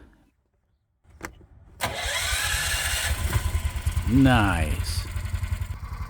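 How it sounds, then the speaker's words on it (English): Small 212 cc Predator gasoline engine on a go-kart cranks and catches, then settles into a steady, loud, close throbbing idle with a brief rising rev; a person speaks briefly over it. "Alright, let's start the engine."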